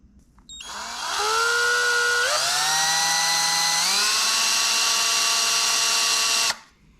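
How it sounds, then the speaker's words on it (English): A power drill drilling out headlight hardware on a 1996 Mercedes SL500 spins up and whines loudly, stepping up in pitch twice as it speeds up, then cuts off abruptly after several seconds. "We're gonna drill the backside out"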